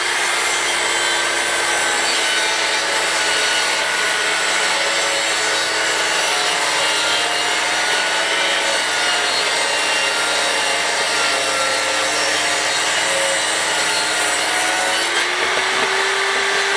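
Wooden skirting boards are cut in an old stone farmhouse hayloft, producing a continuous loud, close rasping with steady tonal whine that shifts pitch near the end.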